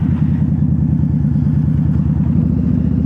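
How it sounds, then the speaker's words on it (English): A motorcycle engine running loud and close while downshifting in traffic, a steady throbbing drone with a rapid pulsing beat and no audible rev spike. "Clutch in, shift down, throttle and clutch at the same time."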